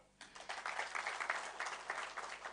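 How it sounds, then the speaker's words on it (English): Crowd at a football team jersey launch event in Guwahati, Assam, applauding a welcomed guest: steady, dense clapping that starts abruptly and carries on at moderate distance. "we need a good clap for her"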